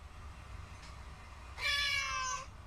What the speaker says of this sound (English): Meows even line up.